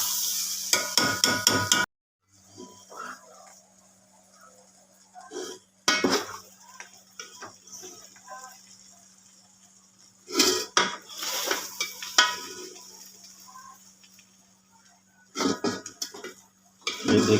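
A lid clanks off a pot of Hyderabadi chicken dum biryani, then a spoon scrapes and stirs through the rice in short clattering bursts separated by quiet gaps, with a faint steady hum underneath.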